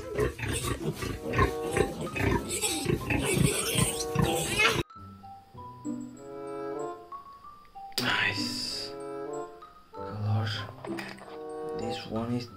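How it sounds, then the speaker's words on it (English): Pig oinking sounds in a children's animal-sounds sequence, a loud burst of grunting and squealing noise followed by tonal chimes and further short bursts, with a child-like voice and music interleaved. "next one is pig."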